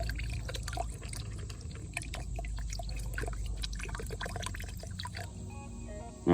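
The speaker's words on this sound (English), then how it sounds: "that's a full bottle of apple cider vinegar in 5 gallons of water" A full bottle of apple cider vinegar being poured into five gallons of water for a wagyu beef rib marinade, a steady liquid pour with trickling and dripping over a low background rumble, ending in a short bump.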